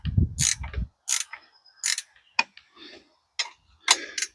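Metal bolts being turned with a wrench on the bar of a chainsaw mill rigged with a 56-inch bar for a huge pine log, giving repeated short ratcheting clicks and clunks in separate bursts with brief pauses between, close and fairly loud.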